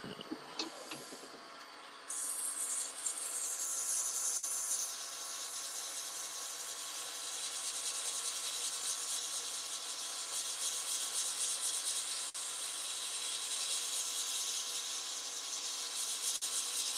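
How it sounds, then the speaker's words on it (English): A slimline pen blank spinning in reverse on a wood lathe is sanded by hand, producing a continuous faint abrasive rubbing hiss. The hiss starts after a brief quieter moment and holds steady to the end. "So I also sand in reverse."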